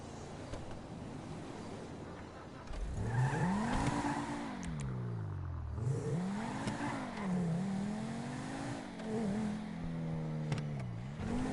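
A cheap car in the GTA 5 video game drives and revs through a smugglers run, its engine note rising and falling in repeated swells over steady road and wind noise, loud and close, with no talking.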